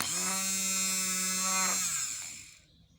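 A small electric motorcycle starter motor whirs at a steady high pitch for about two seconds, then winds down and cuts off, leaving near silence.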